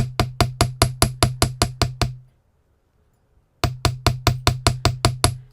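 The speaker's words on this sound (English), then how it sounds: "So I want to hammer evenly all the way around." Steady hammer taps ring on a metal piece, about ten close, even strikes, a pause of over a second, then another run of nine matching taps.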